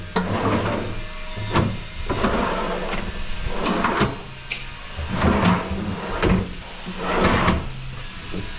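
Wooden pantry drawers or cabinet doors in a renovation are opened and shut repeatedly, giving a string of close, sharp knocks and slides amid light room hiss, with no speech.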